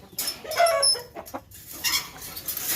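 Rooster of a Thai fighting-cock breed, black-feathered, clucking in a farm yard, several short broken clucks and calls close by with no talking.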